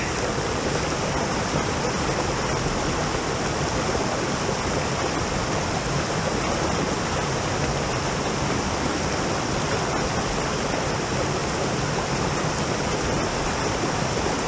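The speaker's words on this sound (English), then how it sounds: "Water coming out the side of the bluff over there." Water pours out of the side of a bluff and into a creek at Wild Burro Falls, a loud, constant rushing roar that fills the whole stretch without pause.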